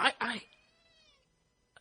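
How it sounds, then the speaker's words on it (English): A house cat's meow comes in just after a voice, a clear drawn-out harmonic cry fading over about a second, close to the microphone, followed by a brief soft sound at the end. "That was my cat joining us."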